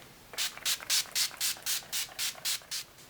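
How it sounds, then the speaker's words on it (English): Nine short hissing bursts of makeup setting spray (Skindinavia Makeup Finishing Spray) in a quick, even rhythm, close to the microphone, with no voices. "So let me put some setting spray on."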